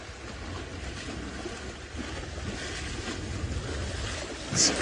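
Young elephants splash in a waterhole, a steady broadband wash of churning water with wind noise, rising into a louder surge of splashing at the end; no talk.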